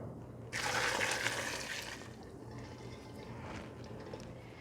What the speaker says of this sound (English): I'm actually just going to start ladling this hot brine over the cucumbers first